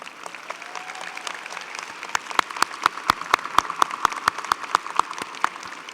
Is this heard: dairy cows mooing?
no